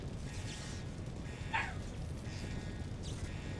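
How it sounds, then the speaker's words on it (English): A dog barks faintly in the background, a short burst near the middle, under a steady bed of video game music and noise. "My dog's barking in the background."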